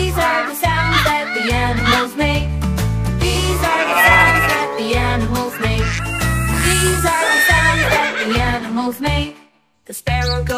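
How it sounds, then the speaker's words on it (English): A horse neighing in a children's animal-sounds nursery song, the whinnies set against steady, loud, upbeat backing music that drops out briefly near the end. "The horse goes neigh, neigh, neigh, neigh."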